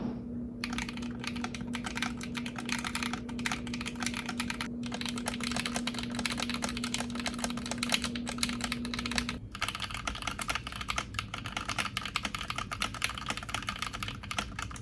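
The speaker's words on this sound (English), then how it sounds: "So here's a sound test comparing the 3 different plate configurations." Mechanical keyboard typed on continuously across three plate configurations, a dense stream of close clicky-clacky keystrokes with a faint steady hum under the first part, no talking.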